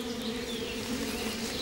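Honey bees buzz steadily around their hives at a rural apiary, a dense, continuous droning hum from many insects, close and fairly loud with no talking.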